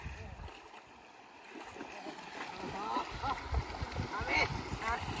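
Water splashes and sloshes while a young bullock is washed, a continuous close gurgling churn that grows louder toward the end, with voices talking over it.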